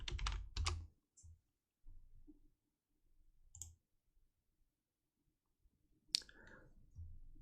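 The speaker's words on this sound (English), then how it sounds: "the easiest way to get there is type in Spriter's resource" Bursts of keyboard typing, a fast flurry of clicks at the start, then sparse isolated key presses with long quiet gaps, ending with another short burst; close and clear, no voices.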